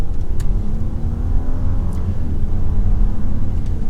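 A 2023 Audi A8L 55 Quattro S-Line with a V6 accelerates, its steady low engine rumble and road noise holding loud and close inside the cabin, with no talking.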